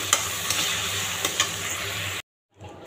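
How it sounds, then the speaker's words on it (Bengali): Small cut pieces of chicken sizzle steadily in a pan, with a few sharp scrapes and clinks from stirring, close and fairly loud for about two seconds before cutting abruptly to near silence. "আমি আগে ভাজা দিয়ে নিতেছি।"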